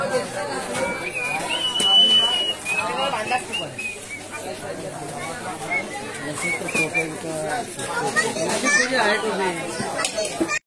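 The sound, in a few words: crowd on temple stairs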